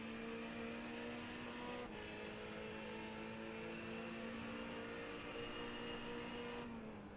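A Ferrari GT3 race car in the iRacing simulator drones steadily at high revs around the Belle Isle street circuit, with a brief gear change partway through and an otherwise even, sustained engine note heard alone.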